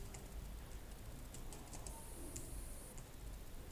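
Code is typed on a computer keyboard during JavaScript web programming. The keystrokes are faint and scattered, a light patter of clicks over steady background hiss.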